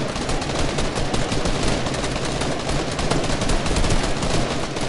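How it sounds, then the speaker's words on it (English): Gunfire in a video game, a dense continuous barrage of rapid shots with no gaps, loud and close. "Oh, yo, we're being shot."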